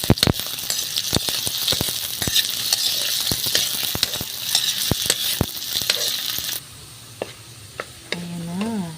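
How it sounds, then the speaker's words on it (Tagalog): Potatoes browning in oil in a frying pan, a dense close sizzle broken by sharp clinks and scrapes of stirring, dropping to a quieter crackle near the end. "Yan yung kawali, may mantika. Ayan, inuna ko yung patatas guys. Ina-brown ko muna yung patatas."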